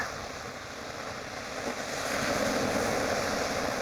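Sea water washes and flows between rocks on a Far North Queensland beach, a steady broadband surf rush that swells slightly louder partway through, with some wind across the microphone.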